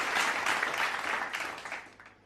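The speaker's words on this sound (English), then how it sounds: "please give a round of applause to our strategic partners from Pune Knowledge Cluster, Pune International Center, and IEEE Pune section" Audience applause for strategic partners at a sustainability hackathon finale in Pune: dense clapping from a crowd that begins strong and gradually dies away over a couple of seconds.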